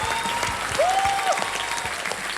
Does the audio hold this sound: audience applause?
yes